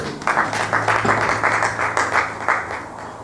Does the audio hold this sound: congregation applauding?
yes